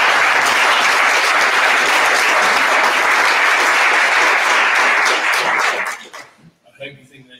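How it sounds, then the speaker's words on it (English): A large audience applauds a speaker at a panel on plastics and regulations, with steady, dense clapping that holds loud for about six seconds before fading out, followed by faint talk. "Let's give Dominic a nice round of applause."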